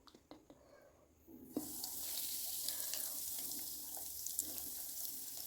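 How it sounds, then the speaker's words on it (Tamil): Bread rolls slide one by one into hot oil in a kadai. After a quiet start with a few small knocks, a loud, bright sizzling bursts in and keeps bubbling steadily. "இதை வந்து இப்போ பிரெட் ரோலை ஒன்று ஒன்றா நம்ம இப்போ எண்ணெயில் இறக்கி விட்டுறலாம்."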